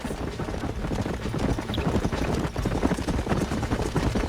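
Continuous clip-clop of horse hooves at a brisk, uneven pace, close and fairly loud, with no talking, in the video game Red Dead Redemption.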